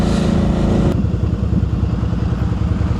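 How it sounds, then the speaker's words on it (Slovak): Several motorcycles idle and rev close by at a motorcycle ride gathering, with a loud steady engine drone that drops in pitch and volume after a short while. "A okolo 300 motoriek, čo počítali pri vstupe."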